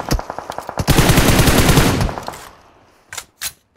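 Automatic weapon fire in the mobile battle royale game PUBG Mobile: a rapid, loud, close burst of machine-gun shots, followed by a dense sustained volley that tapers off, then two final isolated shots.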